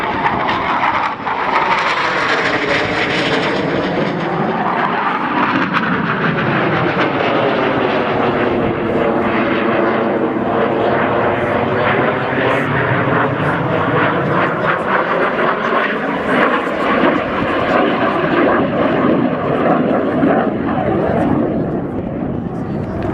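Aircraft flying past at the Shoreham RAFA Air Show, a loud sustained engine drone whose pitch sweeps up and down as it passes, with a commentator talking over it throughout.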